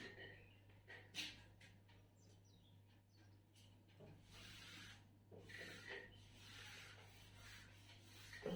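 A classroom board being erased makes soft, repeated rubbing and scraping strokes. The strokes are faint and come in uneven bursts over a low steady hum.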